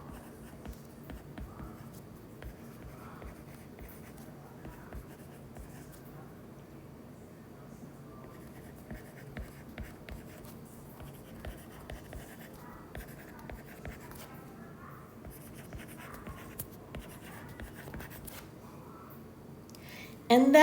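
Pen or pencil writing down a math result on paper, soft scratchy strokes in short bursts throughout, faint and close, with a voice speaking at times.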